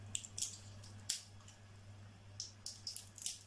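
Scissors snipping during preparation of a vanilla Oreo milkshake, a few faint quick crisp cuts in irregular bursts over a steady low appliance hum.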